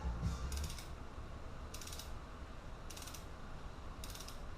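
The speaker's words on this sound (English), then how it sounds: "I just got a deep socket so it fits right over the spark plug perfectly." Ratchet with a deep socket tightening the spark plug on a 2003 Harley Sportster, four short bursts of rapid clicking at an even pace, close up over a low background hum.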